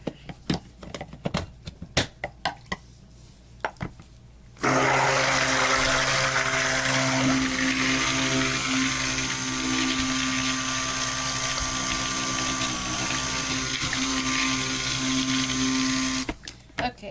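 A stick blender whirs through cold process soap batter with clays and goat milk powder, a steady close motor hum lasting about twelve seconds, framed before and after by scattered clicks and handling sounds.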